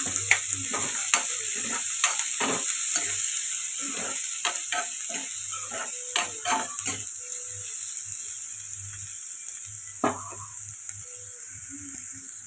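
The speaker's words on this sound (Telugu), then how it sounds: "ఇప్పుడు కట్ చేసి పెట్టుకున్న ఉల్లిపాయలు పచ్చిమిర్చి వేసుకుందాం బాగా ఫ్రై అయ్యేలాగా కలుపుతుంది" Chopped onions and green chillies fry in a pan for a matar paneer masala. A constant sizzle runs under repeated clinks and scrapes of a spoon stirring, close and fairly loud, with no voices.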